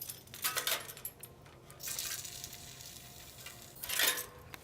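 Air hisses out of a car tire valve pressed open with a set of keys, in three short bursts with faint metallic clinks in between.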